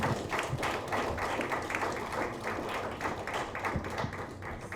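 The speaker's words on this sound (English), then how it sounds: "Please give Sister Amina Love another round of applause" An audience at a Pan African Women's Day 2015 event gives a round of applause, dense continuous clapping from a crowd, fairly loud and sustained throughout.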